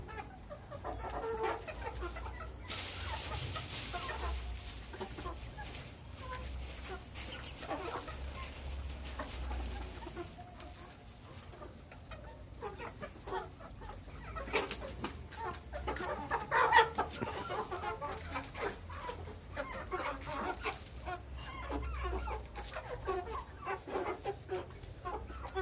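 Chickens in a coop are given leftover toast and cluck and murmur in a loose, irregular chatter at close range, rising in a few louder bursts and carrying on with no talking.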